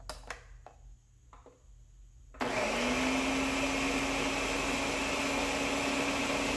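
A blender blends tomatillo salsa with árbol and guajillo chiles. After a few quiet knocks and rustles it starts abruptly, then roars steadily and loudly at close range with a constant motor whine.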